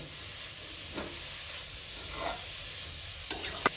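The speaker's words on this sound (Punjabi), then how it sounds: "ਆਪਣੀਆਂ ਗਾਜਰਾਂ ਪਾਈਆਂ ਨੂੰ ਘਿਓ ਦੇ ਵਿੱਚ ਇਹ 5 ਮਿੰਟ ਹੋ ਗਏ ਆ ਤੁਸੀਂ ਇਸ ਨੂੰ ਲਗਾਤਾਰ ਹਿਲਾਉਣਾ" Grated carrots frying in ghee for gajar halwa while being stirred, a steady soft sizzle and hiss with occasional scraping stir sounds near the end, no voices.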